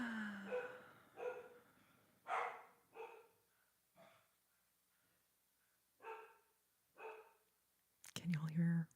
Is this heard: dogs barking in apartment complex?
yes